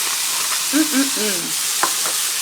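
Mushrooms, courgette, pepper and peas frying together in a pan, a steady close sizzle and hiss with a few brief stirring scrapes and tonal squeaks partway through.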